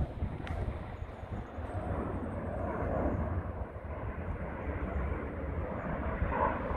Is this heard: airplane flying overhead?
yes